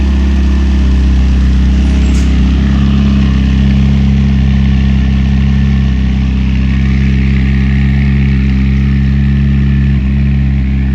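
A 2019 McLaren 600LT with a top exit exhaust idles steadily and loudly at close range, a deep continuous rumble held for the whole stretch with no talking.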